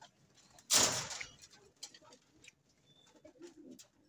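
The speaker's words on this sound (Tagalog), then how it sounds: "Ito si Baba. Yung ibon natin na si Baba" A pigeon kept by a fancier coos softly nearby, with one louder burst of wing flutter or rustle early on, then faint low coos and small chirps in a quiet room.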